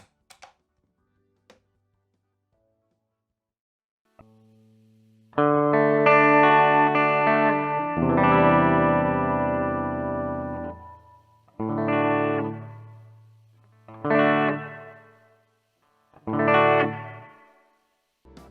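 Electric guitar chords ring out through a Mooer GE150 multi-effects unit, each strum followed by a lingering reverb tail that fades away, with short pauses between phrases.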